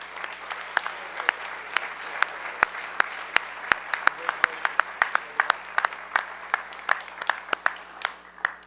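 Scattered applause from an audience at a youth service awards ceremony, sparse distinct claps ringing out over a quiet room, individual hands clearly audible rather than a dense roar.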